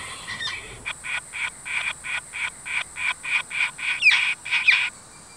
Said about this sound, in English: it's called a buff-breasted paradise kingfisher